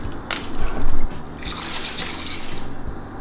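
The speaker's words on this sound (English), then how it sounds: "I'm gonna go ahead and add the water before we start cooking it" Water poured into rinsed rice before cooking, for sushi rice in a two-to-one ratio, makes a loud splashing, gushing stream that swells early then settles into steady running liquid, with no voices.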